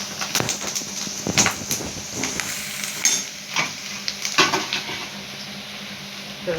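Chana dal and onions crackle in hot oil in a pan, a steady close sizzle punctuated by irregular scraping stirs of a spatula, with no talk.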